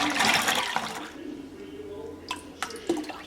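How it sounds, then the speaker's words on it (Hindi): Water poured into a thin gram flour batter for kadhi, almost three glasses' worth: a splashing pour up front that eases off, then a few light drips and plops near the end. "ये ऑलमोस्ट 3 गिलास पानी है जो मैं इसमें ऐड कर रही हूँ।"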